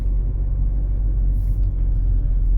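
A car pulls out onto a street during a driving-test route, with a steady low engine rumble continuing close and unbroken throughout.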